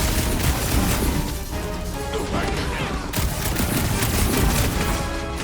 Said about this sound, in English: feel free to let him shoot you, Drax!